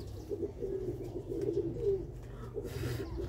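Pigeons coo in low, soft, throaty murmurs, a continuous rolling burble close by at modest volume with no talk over it.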